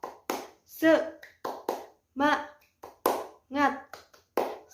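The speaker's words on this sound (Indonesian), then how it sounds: "Tepuk semangat." Rhythmic hand clapping from a class of children at a morning greeting, short bursts of claps alternating with children's chanting voices.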